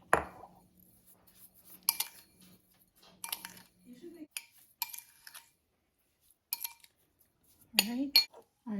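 A spoon clinks and scrapes against a bowl while coconut is mixed with brown sugar, nutmeg and cinnamon, the short clattering bursts spaced out with quiet gaps between them.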